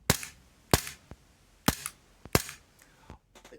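Tokyo Marui Glock airsoft pistol running a CO2 magazine, firing four sharp, loud cracking shots at irregular intervals, each with a brief mechanical clack, followed by faint handling clicks.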